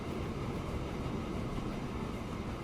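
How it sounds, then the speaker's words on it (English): A fully loaded train hauls up a steep slope in the game Transport Fever 2, giving a steady, loud rumbling roar with a continuous rolling rail noise that holds unbroken throughout. "So that's now a full train. It is going to struggle a little bit getting up this slope."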